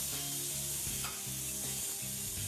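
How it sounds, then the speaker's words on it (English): Finely diced onions sizzle in olive oil in a pan, a faint, steady frying hiss with soft stirring, set against a low musical backdrop. "Just add a little bit more olive oil to your pan. Then we're putting in some finely diced onions."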